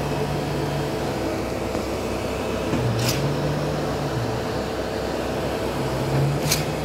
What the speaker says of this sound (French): Alors, ouais, la pompe. Ça reste quand même une super machine.